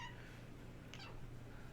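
A cat meows once, faint and somewhat distant, over a steady low background hum.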